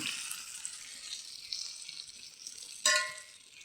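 Pieces of fish fry in hot oil with a steady, fairly quiet hiss and crackle. Near the end a sudden louder spatter flares up and then fades.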